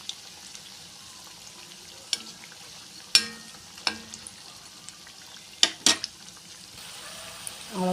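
Potato bondas frying in hot oil as an evening snack, with a steady soft sizzle and a few sharp clinks of a utensil against the pan, fairly close and unaccompanied by talk.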